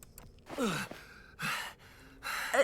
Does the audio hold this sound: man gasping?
yes